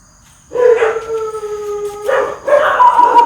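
A dog howls at night around a reputedly haunted mansion, two drawn-out, wavering howls close by, the first long and steady, the second rising and breaking into yelps, with no talking.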